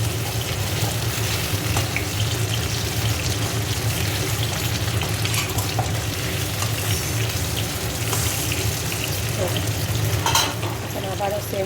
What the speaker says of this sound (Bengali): এখন এই সাইডটা এরকম ভেজে নেব।